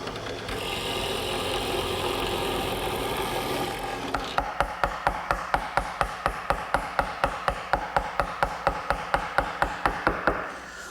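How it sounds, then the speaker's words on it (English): Woodworking tools cut an open mortise in a table leg: a steady broadband rasp of cutting gives way to a fast, even train of sharp mechanical clicks or strokes, close and moderately loud. "Here I'm starting to form an open mortise, and that'll receive a cross piece at the center of the table."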